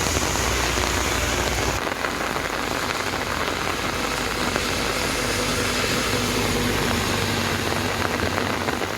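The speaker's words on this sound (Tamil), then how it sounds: "பெரம்பலூர் மாவட்டம் குன்னம் சுற்று வட்டாரத்தில் 2வது நாளாக பரவலாக கனமழை பெய்தது" Heavy rain pouring down steadily in the Kunnam area of Perambalur district, Tamil Nadu, a dense, continuous hiss of drops on surfaces, loud and unbroken throughout.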